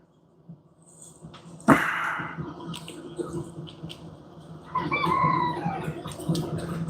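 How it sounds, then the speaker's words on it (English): A rooster crows at a distance, its call faint but drawn out beneath indoor workshop clatter and a sharp knock, with no one speaking during it. "I hear you, Mr. Rooster."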